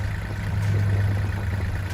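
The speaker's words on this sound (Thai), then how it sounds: "เครื่องยนต์ติดง่ายนะครับ" A Kubota L3408 tractor's diesel engine runs steadily at idle nearby, giving a continuous low rumble with no talk over it.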